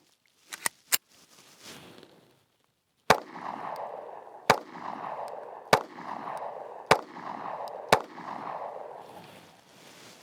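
Taurus GX4 pistol fired in a steady string of five sharp, loud shots about a second apart, each ringing briefly, after a couple of earlier quick reports and a short pause.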